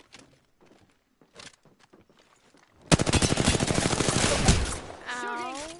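Rapid automatic gunfire in the video game Apex Legends, a loud sustained burst that begins after a few soft footsteps and thuds, with a short trailing voice at the end.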